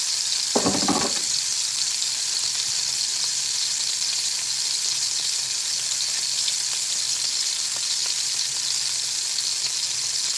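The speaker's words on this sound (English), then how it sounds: "So right now we're cooking steaks" Tenderloin steaks sizzle steadily in a frying pan, a loud, continuous hiss with a brief burst of louder crackle near the start, no voices over it.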